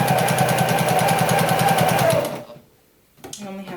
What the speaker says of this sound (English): Or push my quilt through to make sure all 4 layers are sewn.